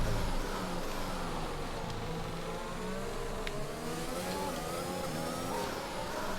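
F1 race car engines in the F1 2021 game, wheel-to-wheel racing against a McLaren, a steady loud whining roar of high-revving engines with shifting pitch, near and continuous, with faint talk beneath.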